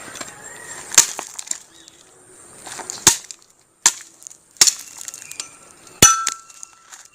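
A Y-shaped wooden stick for a slingshot is cut by hand, with about five sharp cracking chops spread irregularly over quieter scraping and handling sounds.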